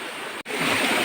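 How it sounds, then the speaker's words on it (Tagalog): A creek rushes in a steady broadband wash. The flow is close and fairly loud, with one brief dropout before it resumes stronger. "Dito tayo sa sapa."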